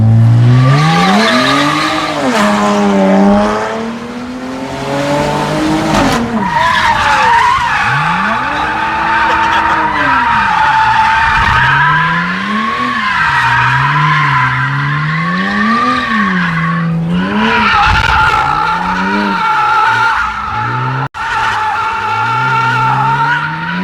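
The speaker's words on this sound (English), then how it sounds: "First experience actually drifting." V10-swapped 240Z drifting with loud tire squeal, the screeching and roaring engine rising and falling in repeated sweeping waves, up close and sustained.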